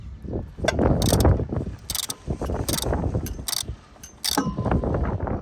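Ratchet wrench unbolting fittings on a boat hauled out of the water: repeated bursts of rapid clicking, close and fairly loud, separated by short pauses, with metallic handling noise between strokes.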